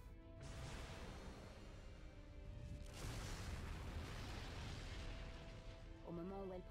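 Taranis tank cannons firing in the game Fuga: Melodies of Steel 2, two deep booming blasts with rumbling aftermath, the second near the three-second mark, very faint overall, with a short voice at the end.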